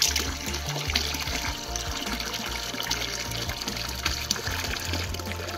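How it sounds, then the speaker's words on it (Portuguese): Spring water from a mountain source flows out under pressure through a pipe, giving a steady continuous splashing and trickling rush, close and even throughout with no voices. "essa água aqui, ela vem de um olho d'água que tem lá em cima."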